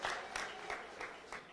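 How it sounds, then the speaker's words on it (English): Short burst of audience applause at a startup demo day in San Francisco, several loose surges of clapping with a few cheers, fairly near and steady for under two seconds. "Let's give some big applause here tonight"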